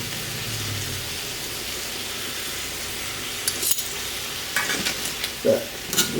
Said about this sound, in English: So I lay them in the pan, I rotate them one time so that I have a nice crosshatch, and then I flip them